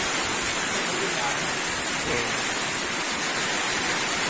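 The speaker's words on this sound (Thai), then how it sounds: "แต่ตอนนี้ฝนตก มาถูกวัน จริงๆ" Rain falling at a home-style car body shop, a dense, steady hiss of downpour on surfaces throughout, fairly loud and even with no distinct drops standing out.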